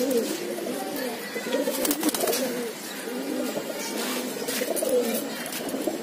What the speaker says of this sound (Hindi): और भी कबूतर है